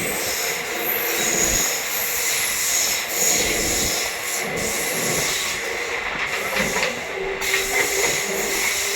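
A train on the Prayagraj–Delhi via Chitrakoot special route runs at speed, a steady broadband rumble and rattle of wheels and wagons with a faint hiss, continuous throughout without speech.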